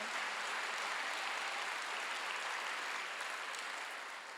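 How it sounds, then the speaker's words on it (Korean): A church congregation at a Wednesday worship service claps in a dense, even wash of applause. It holds steady for the whole clip and eases off slightly at the close. "박수야."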